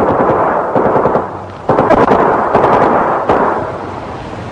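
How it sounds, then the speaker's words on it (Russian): Gunfire from an ambush on Bonnie and Clyde's car: loud, dense volleys of rapid shots that crackle and overlap almost continuously, with brief dips between bursts. "тут же началась стрельба из засады"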